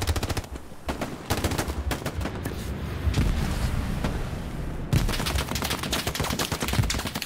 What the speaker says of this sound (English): Oh, their machine gunner saw me.